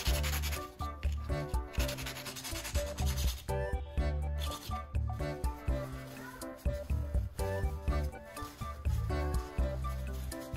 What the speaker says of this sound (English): I'll grind the battery core to shape it into a fine soldering tip